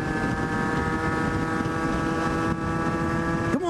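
A Derbi GPR 50cc motorcycle engine drones at a steady high pitch while riding near top speed, a constant buzzing tone with wind rush, briefly revving up at the very end.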